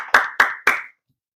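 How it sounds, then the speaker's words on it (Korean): A church congregation at Sunday worship claps in unison: three sharp, evenly spaced claps ring out clearly, then silence. "우리 하나님께 감사와 영광의 박수를 올려드립니다."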